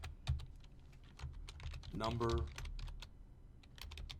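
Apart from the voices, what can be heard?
typing an SQL query on a computer keyboard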